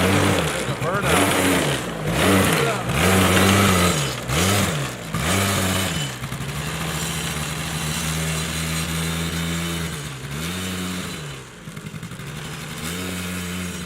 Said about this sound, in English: A burnout.